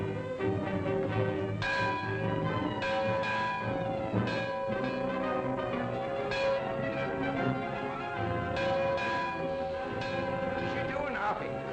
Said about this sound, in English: That bell's gonna ring again.